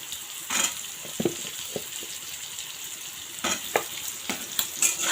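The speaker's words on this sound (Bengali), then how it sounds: "পেঁয়াজের সঙ্গে আলুগুলো ভাজা হয়ে যাবে" Potatoes and onions frying in a pan, with a soft steady sizzle and a few sharp scraping stir clicks near the start and again toward the end, close and moderately loud, with no voices.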